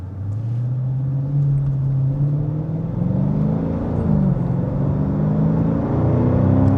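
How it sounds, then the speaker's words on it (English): A Dodge Challenger's engine rises as the driver eases gently onto the throttle, a steady close rumble and whir whose pitch climbs gradually without kicking down, with no talk over it. "I just kind of slowly rolled onto the throttle so it wouldn't kick down."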